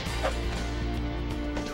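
A dog in the video game Arc the Lad: Twilight of the Spirits gives short yipping barks amid busy in-game noise, with the barks brief and partly masked.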